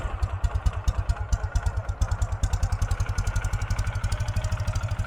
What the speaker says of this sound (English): All we're going to do is tap the starter.